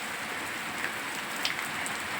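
Steady rain falls on a surface with a soft, even hiss, scattered with a few distinct drops. The sound is fairly quiet, with no voices.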